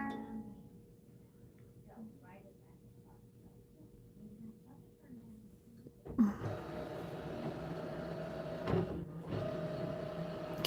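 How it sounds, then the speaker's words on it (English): An embroidery machine's carriage shifts into position: a quiet stretch of soft, faint mechanical hum, then a louder steady whir with a sharp clunk as the unit moves, running on at a constant level. "The carriage of the embroidery unit will move."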